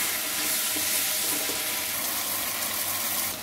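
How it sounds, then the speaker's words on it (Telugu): Pumpkin pieces frying in a pan for an Andhra-style curry, stirred continuously, giving a steady close sizzle with soft scraping and no voices. "ఇప్పుడు మనం ముందుగా కడిగి పెట్టుకున్న గుమ్మడికాయ ముక్కలు వేసుకుందాం. వాటిని బాగా కలియబెట్టుకోవాలి."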